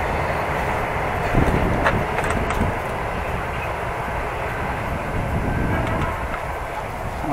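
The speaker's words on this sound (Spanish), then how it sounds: "Pasando el tren, justo los trenes nuevos." A newer-model train rolls past nearby in Argentina with a continuous rumbling roar and faint rail clatter, steady and loud throughout.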